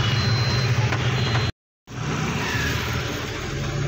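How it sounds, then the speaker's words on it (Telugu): Busy road traffic at festival time near Shadnagar, with buses, cars and autorickshaws. There is a dense, continuous rumble of engines and tyres, broken by a short dropout, with no voices. "బస్సులు, కార్లు, జనాలు,"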